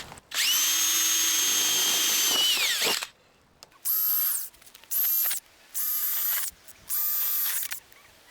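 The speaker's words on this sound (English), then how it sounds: "I'm going to pre-drill them so that I just have an easier time on the roof." A power drill pre-drills holes in marked-out material for a mobile office building roof leak repair: one long whining spin of about three seconds, then four shorter bursts of high-pitched motor whine, close and loud.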